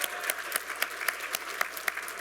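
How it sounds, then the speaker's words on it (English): An audience at a university science and technology summit applauds the teachers present, giving a brief, lively burst of dense clapping with a few sharper individual claps standing out. "Big round of applause for them."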